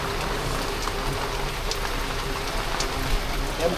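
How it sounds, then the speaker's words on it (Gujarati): Heavy monsoon rain pouring steadily in a developing Surat neighbourhood, a dense continuous hiss with scattered louder drop splashes, close and unbroken, no voices. "અત્યારે વરસાદ પણ ફૂલ આવી ગયો છે"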